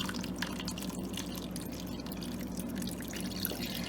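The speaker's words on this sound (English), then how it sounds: "I'm just gonna put a cup of water on the bottom." A cup of water poured into the bottom of a crock pot holding half an onion, a quiet, steady trickling splash heard alone.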